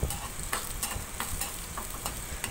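Dried red chili sizzles in hot oil while tempering for tomato rasam, a steady close crackle with brief bright pops spread through the clip, no voices.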